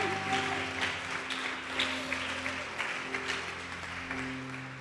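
Church congregation applauding during a sermon, a steady broadband wash of clapping that carries through the whole stretch with a sustained organ or keyboard chord held underneath.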